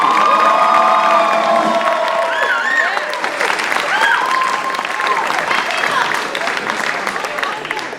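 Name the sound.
audience applause for seniors at a school jazz concert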